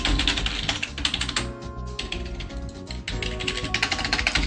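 Rapid computer keyboard typing, a dense run of clicking keystrokes that stays steady and fairly close throughout, with music playing under it and no talk.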